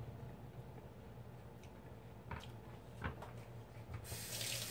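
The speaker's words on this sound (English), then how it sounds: "Rinse my fork off because we don't want to double dip." A fork is rinsed under a running faucet, a steady close hiss of flowing water with a few light knocks, growing brighter and louder near the end.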